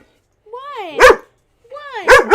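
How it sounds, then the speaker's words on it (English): A pet dog at home barks twice up close, a whiny yelping bark followed a second later by a sharper double bark, loud and alone. "Sorry, it's my dog. She's bugging me."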